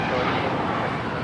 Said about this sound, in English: Air China 988 will be departing to Beijing on this 777-300ER